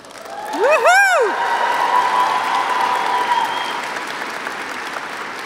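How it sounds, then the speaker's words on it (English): A commencement crowd at a degree ceremony claps and cheers. There is a rising whoop near the start, then sustained applause that slowly thins while voices carry over it. "Please hold all the much-deserved cheers and applause until all graduates have crossed the stage."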